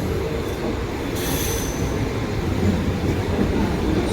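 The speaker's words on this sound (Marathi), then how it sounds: "तितक्यात माझी ट्रेन आली." A night train pulling into a station platform, a loud sustained rumble of wheels on rails with a high metallic squeal rising partway through, no talk.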